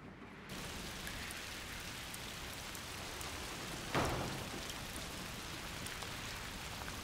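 Steady rain falling in the video game A Plague Tale: Requiem, a soft, even hiss of drops starting after a brief lull, with a single faint thud near the middle and no talking.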